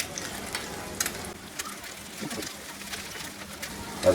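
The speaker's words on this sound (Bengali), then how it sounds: "আমি চুলায় অল্প একটু তেল দিয়ে 2টা ডিম আমি একটু ভেজে নিব" Two eggs fry in a little oil in a pan on a stove, giving a steady, fairly quiet sizzle with a few small pops and no talking.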